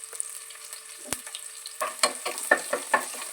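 Green chillies and curry leaves dropped into hot oil crackle and sizzle, with a quiet start, one sharp knock, then a run of spattering pops growing busier toward the end, close by with no voices.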